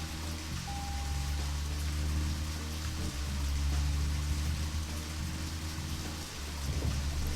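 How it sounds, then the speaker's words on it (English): Rain pours steadily with a low rolling rumble of thunder in the horror game Deadly Premonition, a constant hiss over deep booming swells that rise and fade, with no voices. "And it's raining."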